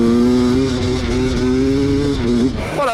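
A motorcycle running a 20-year-old engine rides on a dirt track, its steady droning exhaust note holding for most of the stretch before easing off and rising again near the end, loud and close.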